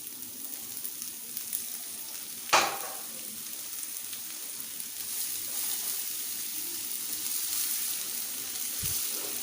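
Carrots cooking in a pot with a splash of water for Kabuli pulao, giving a continuous close sizzle and hiss with one sharp utensil clink early on.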